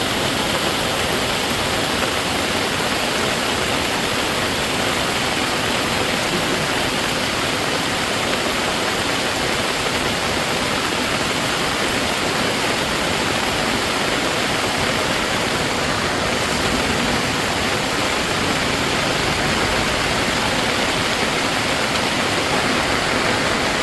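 Floodwater surges through a swollen village river in Morigaon, a loud, unbroken roaring rush that fills the sound close by with no voices.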